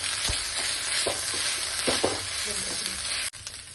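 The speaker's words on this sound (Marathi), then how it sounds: "आता यामध्ये आपण 1 चमचा अद्रक लसूणची पेस्ट घालून व्यवस्थित असं फ्राय करून घेऊया" Ginger garlic paste frying in a pan after golden-brown onions for an egg masala, a dense continuous sizzle with a few soft clinks and scrapes of stirring, close up, briefly cutting out near the end.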